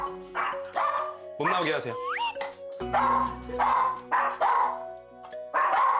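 A pet dog named Max barks repeatedly at a visitor knocking at the door, loud, close bursts with yips and whimpers, while a person speaks over it.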